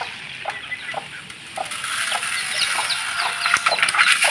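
A white Kelso hen and her chicks cluck and peep close by, with short repeated clucks and high chirps that grow busier toward the end and no talking.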